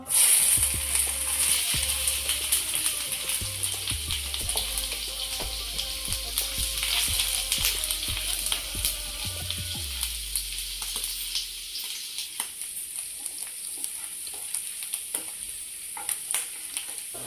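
Chopped ginger and garlic fry in hot oil, giving a continuous close sizzle with scattered crackles and spatter that gradually eases toward the end.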